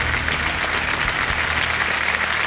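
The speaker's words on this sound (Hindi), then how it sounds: "तालियां बज जाएं इनके लिए।" Loud, sustained studio-audience applause for a quiz show contestant who quits after winning 25 lakh points, a dense, even roar of clapping filling the whole moment.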